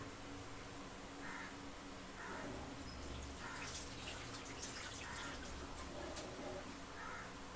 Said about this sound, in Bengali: তো এবার এই যে চালটা দিয়ে দিচ্ছি, ভিজিয়ে রেখেছিলাম চালটা আগে থেকে।